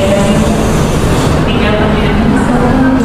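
Inside the new dining car of a moving train, modified by Balai Yasa Tegal, a loud, steady low rumble of running carriages fills the space, with people talking over it.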